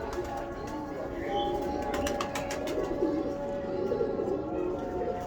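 Pigeon of a fine breed cooing softly and repeatedly close by, a low throaty murmur that continues steadily throughout.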